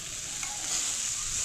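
Vegetables frying in a wok for moong dal, a bright continuous sizzle with soft stirring, brief and fairly close.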